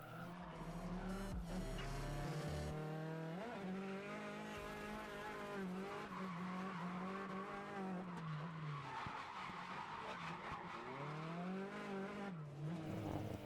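Cars drifting at Oi Wharf, a street spot in Japan: sustained, wavering tire squeal and skidding over revving engines, rising and falling continuously, fairly distant and faint, without talk.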